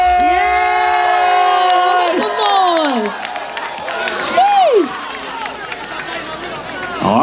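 Crowd at a Red Bull Dance Your Style dance battle in Oakland shouting and cheering loudly, with whoops and rising yells over the crowd's din, fairly close.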